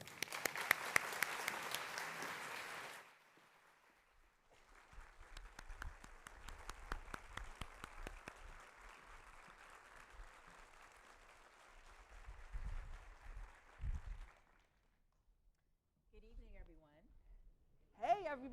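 An audience welcomes an author at an evening event with a burst of applause and clapping that swells, then fades into lingering claps before a voice begins speaking.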